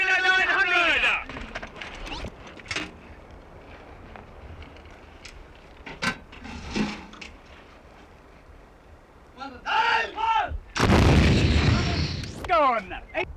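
Artillery gun firing in Dhofar, Southern Arabia, with one heavy broadband blast near the end and fainter thumps earlier, mixed with shouted fire commands from the gun crew.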